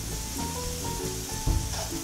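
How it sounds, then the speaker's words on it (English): Garlic and sugar sizzling and frying in a hot pan, a steady bright hiss throughout with a brief thump partway through, while music plays in the background. "See, it's starting to sizzle now,"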